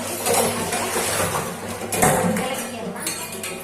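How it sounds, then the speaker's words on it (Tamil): Scrubbing and scraping on metal pots, with occasional clinks of vessels knocking together, close by, while a person talks. "இப்போ பாத்திரம் இருக்கு நம்ம தேய்ச்சிக்கலாம் பார்த்தீங்கன்னா பாத்திரம் விளக்கிடலாம்"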